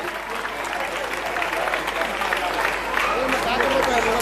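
A crowd at a birthday celebration and felicitation event claps vigorously, dense applause building slightly louder toward the end, with voices mixed underneath.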